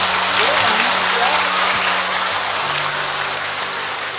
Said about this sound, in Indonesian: Tepuk tangan dulu buat anak pertama.